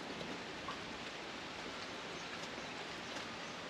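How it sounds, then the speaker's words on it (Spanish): Light drizzle falls steadily outdoors, a faint, even hiss of fine rain pattering without pause or voices throughout. "Y yo viendo la lluvia caer. Está cayendo una ligera llovizna."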